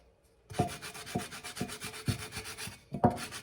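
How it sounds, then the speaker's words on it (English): Rhythmic scratchy rubbing strokes, about six back-and-forth passes of a sanding sponge up close around the edge of a painted tumbler, each a brief gritty swipe. "now I have my sanding sponge, and I'm just going around the edge of the tumbler"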